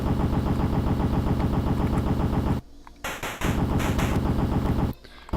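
Rapid repeating gunfire from The Punisher on the NES, loud chiptune shots fired in a fast steady stream, breaking off briefly twice with short electronic effects in the gaps.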